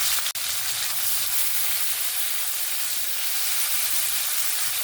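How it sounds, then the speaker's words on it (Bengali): Chopped onions hitting hot oil already fragrant with toasted whole cumin seeds, a steady, close, dense sizzle and frying hiss that holds throughout with no talking. "পেঁয়াজটাকে সুন্দরভাবে লাল লাল করে ভেজে নেব"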